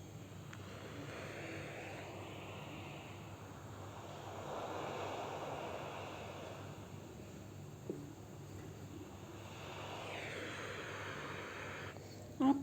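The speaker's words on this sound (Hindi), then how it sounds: "दूर से लहरें आ रही हैं, शांत। कभी समुद्र शांत हो जाता है, कभी लहरें आने लगती हैं" Gentle surf rolls in from a distance, swelling and fading in slow waves over a soft, continuous wash.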